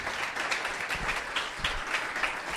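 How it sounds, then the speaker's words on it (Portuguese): A church congregation applauds at a Sunday morning family service, a steady wash of many hands clapping together, moderately loud and continuous with no break. "Dê um aplauso a Jesus, se você puder."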